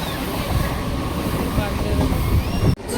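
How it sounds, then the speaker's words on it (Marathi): Continuous rumble and wind rush inside a crowded Mumbai commuter train heading toward Bandra, heard close and steady, with a brief sharp dropout just before the end. "आता आम्ही चढलो ट्रेनमध्ये."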